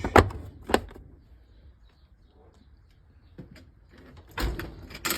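A drawer on a Harbor Freight Series 3 56-inch toolbox is pulled open, with sharp metallic clacks at the start, a quiet sliding stretch, then more rattling clunks near the end.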